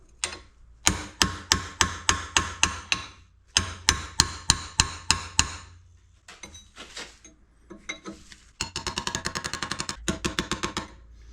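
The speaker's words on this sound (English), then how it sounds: "you tap with the chisel on both sides, and when it starts rotating, then it's released" A hammer strikes a chisel set against a rusted screw in sharp, evenly spaced metallic taps, several series of close, loud blows separated by short pauses, the final run faster and denser.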